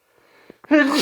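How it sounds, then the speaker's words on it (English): A single sneeze nearby: a short in-breath, then a sudden loud, voiced burst. "I had to sneeze."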